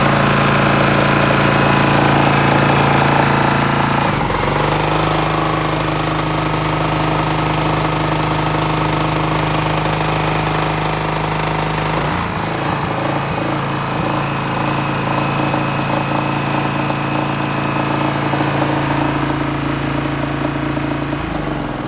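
An old generator running loud and close with a steady low hum and a rough, knocking engine chatter, with abrupt shifts in tone around a few seconds in and again near the middle as the load or speed changes.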